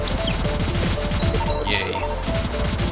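Rapid bursts of laser gunfire in the video game Cave Story Plus rattle out loudly and continuously, mixed with synthetic chiptune music and an upward electronic sweep.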